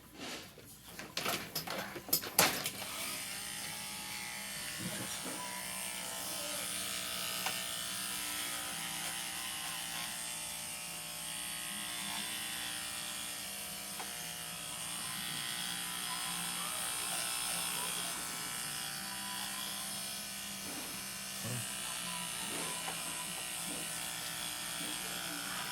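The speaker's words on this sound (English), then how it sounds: "I can be very cognizant about the heat of the clippers and start with them cold on her face" Electric clippers buzz steadily and close while shaving a powder puff Chinese crested dog down to hairless, with a few clicks and handling knocks at the start and quiet talk now and then.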